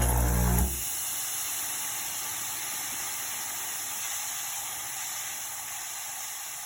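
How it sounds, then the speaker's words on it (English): An Antunes DFW-150 machine steams with a steady, loud hiss that follows a brief lower mechanical rumble at the start and holds for several seconds without talk. "So yes, it is steaming."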